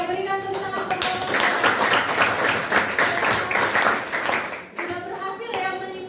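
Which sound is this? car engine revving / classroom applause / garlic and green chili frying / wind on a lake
classroom applause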